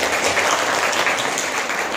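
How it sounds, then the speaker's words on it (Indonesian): Students in a physics class applaud a classmate's answer, producing a steady, moderately loud patter of many hands clapping together for a couple of seconds. "Beri tepuk tangan."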